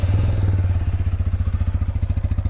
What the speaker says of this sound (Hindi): मैं आपको स्टार्ट करके एक बार साउंड सुना देता हूँ कैसी क्या मोटरसाइकिल है यहाँ पे